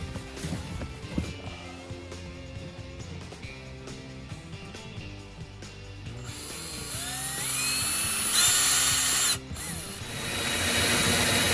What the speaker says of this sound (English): So now we're drilling.